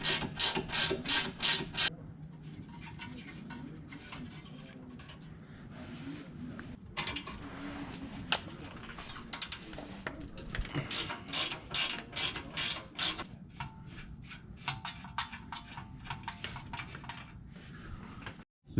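A ratchet loosens the tie rod ends on a BMW E46, E36 or E30, giving bursts of rapid close clicking separated by pauses and faint metallic handling.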